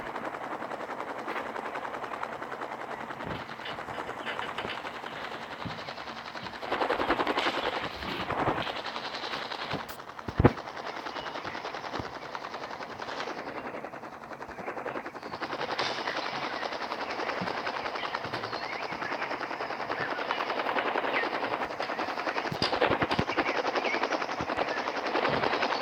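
Helicopter rotor drone with bursts of machine gun fire from the Real Stickman Crime video game, a steady loud whir broken by rapid gunfire rattles and one sharp bang near the middle, with no talking.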